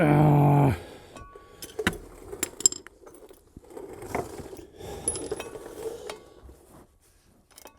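A wrench or ratchet working a stubborn, nearly rounded nut during engine removal from a BMW E36. Sparse, close metallic clicks and clinks after a brief louder opening burst, with quiet pauses between.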